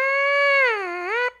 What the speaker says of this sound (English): You'll need to know how to buzz your lips into your instrument.